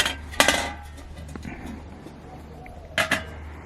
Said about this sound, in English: you can put your pot right over like this, but it works much better if you have some type of a little grill piece